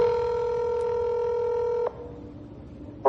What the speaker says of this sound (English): The audio from that phone call is later released by authorities.